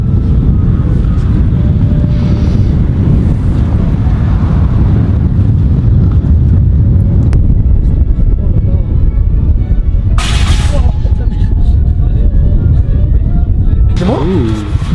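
Strong outdoor wind buffets the microphone atop a crane, a loud constant low rumble and roar filling the whole clip, with someone speaking through it and a couple of brief sharp noises near the end.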